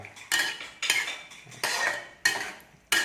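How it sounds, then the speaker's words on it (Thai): Squid being stir-fried with mashed salted egg, a utensil scraping and clanking against the pan in five sharp, repeated strokes, close and loud, with no talking. "กวนให้มันเข้ากันกับหมึก"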